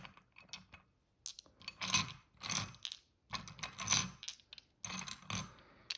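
Dice clatter and rattle in several short bursts, rolling and tumbling against a hard surface, close and fairly loud with brief pauses between.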